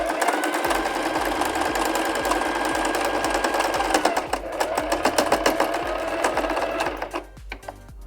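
A sewing machine stitches a dividing line down the center of a pocket piece, its motor running in a steady close whir with a rhythmic mechanical thump that slows and stops near the end.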